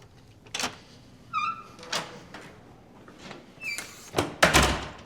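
A hotel suite door on the seventh floor is opened, with a series of clicks, thumps and a brief squeak of the handle and latch, close by and fairly loud.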